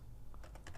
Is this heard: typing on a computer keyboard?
yes